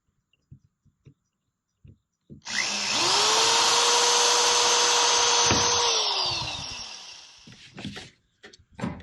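Power drill boring pilot holes for screws on a Com-Pac 16 sailboat, a loud whine that rises, holds steady for about three seconds and winds down, with faint taps and knocks before and after.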